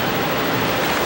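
A raging sea sound effect gives a loud, continuous roar of crashing waves and rushing water, steady across the short moment with no voices.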